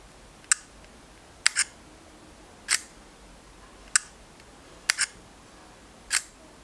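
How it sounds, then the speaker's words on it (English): Sony Alpha 5100 camera playing its artificial shutter sound through its built-in speaker: six faint paired clicks spaced about a second apart, each open-and-close pair separated by a slow shutter speed, in a quiet room. "that is the fake shutter sound emitted through the speaker"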